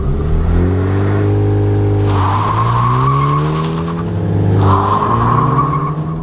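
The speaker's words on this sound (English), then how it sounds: "That did a little adorable burnout." A BMW on a launch-control start spins its tires into a burnout, with a loud nearby engine roar rising in pitch alongside sustained, wavering tire squeal.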